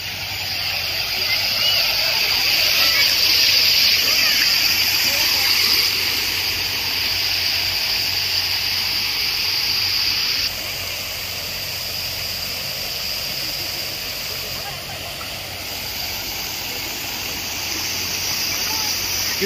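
Park water fountain shooting water high into the air, a loud continuous hiss and rush of spraying water throughout, with a voice and other voices in the background.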